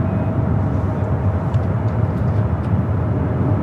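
An Air China Boeing 777-300ER arriving from Beijing lands at LAX, its jet engines a heavy, continuous low roar heard close and loud, steady throughout with no talk.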